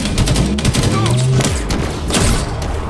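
Dense, continuous machine gun fire in Halo Infinite, loud and close, with rapid overlapping shots and thuds filling the whole stretch and faint voices mixed underneath.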